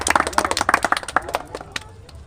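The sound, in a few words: audience applause at prize ceremony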